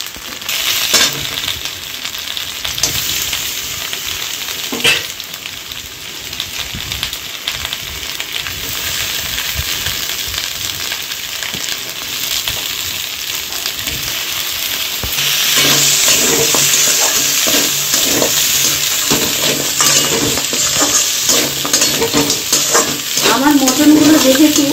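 Mutton, pre-boiled with turmeric and salt, frying in a pan of spices for mutton biryani: a continuous close hiss and crackle that grows louder and busier partway through, with stirring scrapes and no voices.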